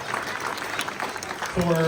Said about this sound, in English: another round of applause, please, for the voters of Seattle